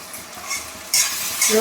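Spice masala with cumin, a little sugar and salt sautés in a pan for aloo chop filling, a brief close scrape of stirring followed by a rising sizzle that grows louder as the mixture is turned.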